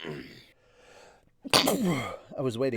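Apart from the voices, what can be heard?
sneeze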